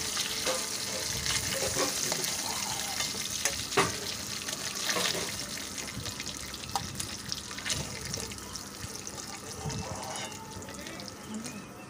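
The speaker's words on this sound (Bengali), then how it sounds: "বেশি কড়া করে ভাজছি না।" Snakehead fish pieces frying lightly in oil, a quiet continuous sizzle with scattered crackles and clinks of utensils, faint and close, with no clear talking.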